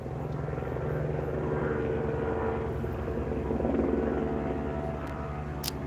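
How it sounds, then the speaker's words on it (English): A police helicopter circling overhead makes a steady rotor thrum and engine whine, continuous and moderately distant, with faint background noise. "We've got a helicopter kind of circling around here."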